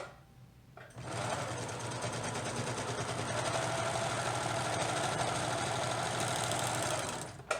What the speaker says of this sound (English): So we're just going to serge it so that we don't have a raw edge anymore.